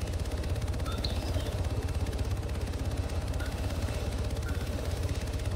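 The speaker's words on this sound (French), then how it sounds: "Il y a un hélico sur la droite qui se pose là-bas." A helicopter in a video game, a steady rapid rotor thump and engine drone that stays loud and unchanging throughout, with no talk.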